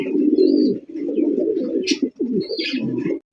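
Pigeons cooing in a pigeon loft, a steady low rolling coo with brief breaks and a few higher chirps and flutters, close and continuous.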